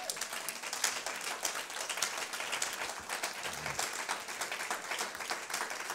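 A church congregation claps together after a scripture reading, giving a dense, sustained round of applause that stays fairly even throughout, loud and full with no talk over it.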